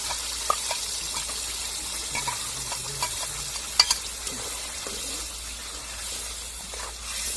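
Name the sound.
frying and stirring girvi masala in a pan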